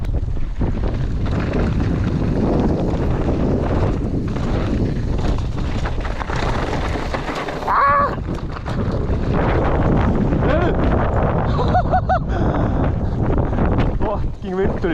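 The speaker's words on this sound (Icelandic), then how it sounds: "Fucking vindurinn, maður." Heavy wind buffets the microphone on a downhill mountain bike course in Akureyri, a continuous low roar with brief lulls, while voices talk intermittently underneath.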